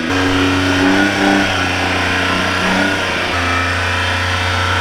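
A rough-running truck engine, overdue for a tune-up, on a two-car hauler tow rig idles steadily and close by, its uneven low drone rising briefly as it revs, with no one talking.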